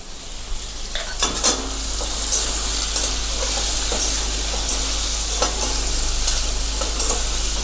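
Vegetables sizzle steadily in a hot pan with a little turmeric, with occasional clinks and scrapes of a utensil stirring them.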